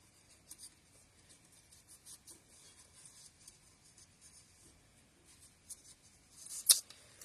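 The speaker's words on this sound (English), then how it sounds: "I'm probably going to have to trim the stem just to get it out of my way" Scissors snip through a paper flower stem during a Stampin' Up! cardmaking project, a few quiet close cuts and light paper rustles ending in one sharper snip.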